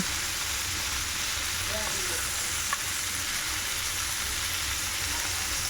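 Prawns fry in a pan with a constant close sizzle and hiss, steady throughout, with one small clink partway through and no speech.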